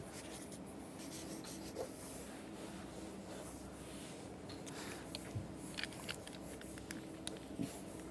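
A pencil scratches and rubs continuously across paper while a cartoon is being drawn, with pressure shifting between hard and light strokes, close and soft, with faint background hiss and no talking.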